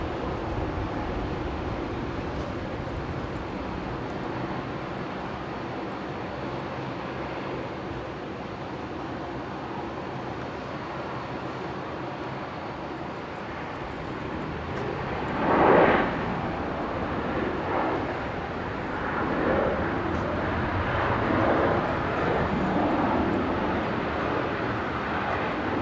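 A Rex airliner on its takeoff roll from runway 19 right, a broad distant engine roar building gradually and swelling louder toward the end, heard from outdoors with no speech.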